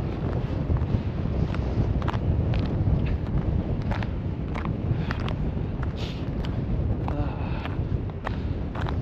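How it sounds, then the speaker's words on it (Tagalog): Strong winter wind at Abraham Lake buffeting the microphone: a continuous low rumbling roar with gusty thumps, and a voice speaks faintly beneath it. "Grabe lakas ng hangin."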